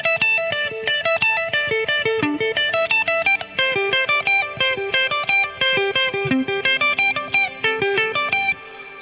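Electric guitar on the neck pickup played dry with the delay switched off, a quick run of distorted, evenly paced notes keeping a steady tempo, close and loud throughout before stopping abruptly near the end.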